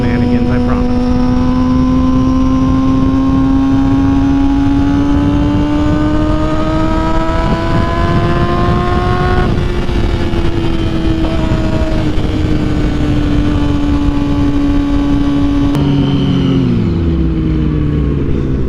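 A Yamaha R6 sport motorcycle engine runs loudly and steadily close by, its pitch rising slowly then easing, before it drops away as the bike stalls near the end, over heavy wind rumble.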